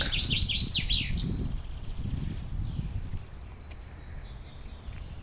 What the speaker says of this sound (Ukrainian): Тут пташечка по заказу.